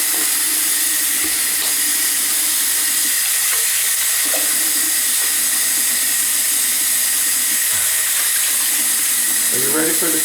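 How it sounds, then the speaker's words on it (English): Water running hard from a tap into a bathroom sink that is being tested after unclogging, a loud continuous rushing hiss with a few faint knocks and shifts underneath. "Let's just fill this up with water."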